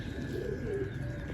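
A pigeon with large eyes coos softly and briefly nearby amid low ambient noise, with no one speaking over it.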